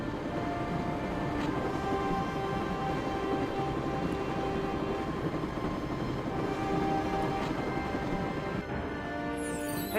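A train rolls along in the adventure game Broken Sword, a continuous mid-level rumble with faint rhythmic clacks and a steady hum, no talking over it.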